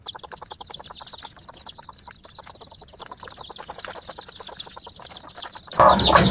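Baby chicks on a poultry farm peep in a rapid, high, continuous chorus close by, ending in a sudden burst of loud rustling noise.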